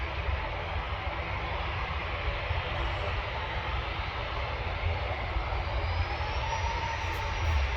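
A Ryanair passenger jet at Manchester airport roars in a broad, steady rumble that stays loud and constant throughout, heard from nearby on the ground.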